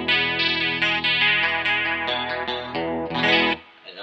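Electric guitar on its bridge pickup in single coil mode, played through a Danelectro Cool Cat chorus pedal: a bright, shimmering run of picked notes and chords that ends in a brief decay, with no talking.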